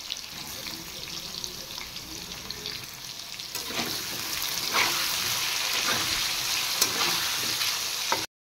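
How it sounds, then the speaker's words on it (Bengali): Cut potatoes fry in oil with salt and turmeric, a steady close sizzle that grows louder partway through, with occasional stirring scrapes and no talk. "এবার সামান্য একটু নুন আর হলুদ দিয়ে আলুগুলো একটু ভেজে নেব।"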